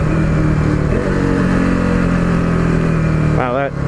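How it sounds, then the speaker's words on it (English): KTM RC390 motorcycle engine braking on a test ride, a steady mid-pitched engine drone with harmonic whine, loud and close, dipping slightly near the end as revs fall. "Wow, that engine braking is very smooth."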